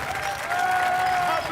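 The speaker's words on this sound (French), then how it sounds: "je vous demande d'applaudir Brett Sinclair, Simon Templar" Steady applause from a television game-show studio audience, dense and continuous for the whole moment, with a faint tonal hum running underneath.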